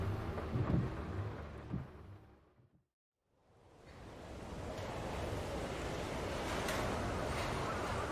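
Rain and thunder in the Farming Simulator video game: a low rumbling wash of weather noise fades out to near silence, then swells back into a steady, rushing downpour roar.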